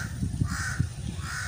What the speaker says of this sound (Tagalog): Galing, andyan pa yung uwak oh.